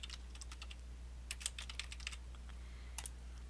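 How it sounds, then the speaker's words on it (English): A computer keyboard is typed on quietly in short irregular bursts of clicks over a low steady hum, with no voices. "I'm going to type my name again."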